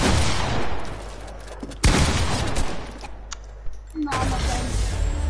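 Assault rifle fire in a video game, sharp bursts of rapid shots broken by short pauses, loud and close, with a voice briefly heard between volleys.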